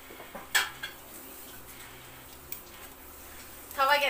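A metal frying pan clanks and scrapes a few times, with a sharp clatter near the start and another burst of rattling at the end, over quiet room noise.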